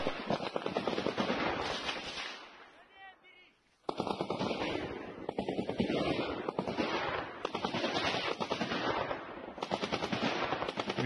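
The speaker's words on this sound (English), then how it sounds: "the Humvee just lit this man up" Humvee-mounted machine gun firing in combat in Ukraine, rapid loud bursts with a short pause midway, then sustained rattling fire with wind buffeting the microphone.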